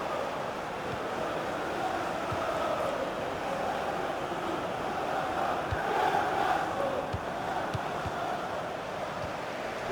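Stadium crowd in the FIFA 17 video game, a broad steady roar of many voices that swells slightly midway, sustained and fairly loud without distinct breaks.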